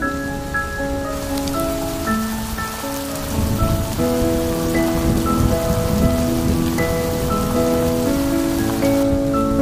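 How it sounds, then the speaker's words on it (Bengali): Heavy rain pours steadily on a rainy Eid al-Adha day, a dense continuous hiss of drops hitting surfaces. Soft music plays underneath the rain. "বৃষ্টি তো থামছেই না"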